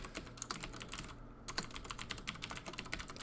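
Quick, quiet keystrokes on a computer keyboard as an email address is entered, an irregular run of light clicks close by with a short pause partway through.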